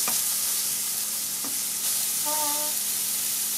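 Mushrooms and cheese sizzling steadily in a seasoned wok, a constant close frying hiss with a brief scrape of stirring, and no talk.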